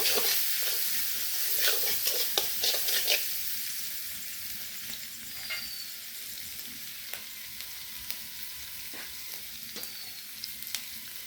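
Chili, onion and salt frying in oil in a pan: a brisk sizzle with clustered clinks and stirring at first, then a quieter, thinner frying hiss with occasional light taps.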